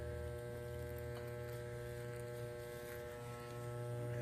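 Steady electric buzzing hum of hair clippers running close by during a fade haircut, with a slight change in tone partway through as the blades meet hair.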